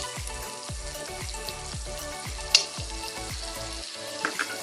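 Butter sizzling in a hot wok while it is swirled around before a sugar paratha goes in. A soft, even crackle sounds close by, with a regular series of quick dull strokes and a few brighter clinks.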